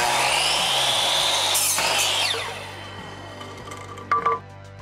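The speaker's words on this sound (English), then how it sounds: "time to cut out the rafters" A power saw cuts through wooden rafters for a pergola gate entrance, a loud whining cut that fades after a couple of seconds, followed by quieter shop noise and a brief clatter near the end.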